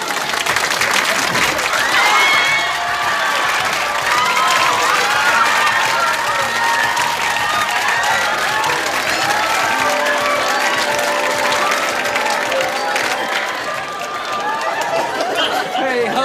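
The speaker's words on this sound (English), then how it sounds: "A big round of applause for Miss Dolores Willis." Audience applause and cheering for Miss Dolores Willis, the last finalist from First Floor Ladies Intimate Apparel, at a contest in a department store; steady loud clapping with whoops and crowd chatter throughout.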